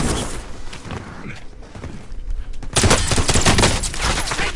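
Heavy gunfire in Call of Duty Warzone, a loud sustained barrage of rapid shots from a nearby team, swelling into denser bursts toward the end.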